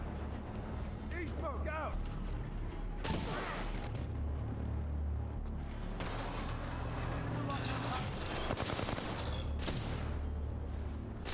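Gunfire and combat noise from the video game Titanfall 2 crack in rapid bursts over a steady rumble, with someone talking over the action throughout.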